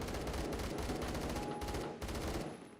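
AK-12 rifle in Phantom Forces firing rapid bursts, a dense string of loud, close gunshots with a short pause before another quick burst, no voices.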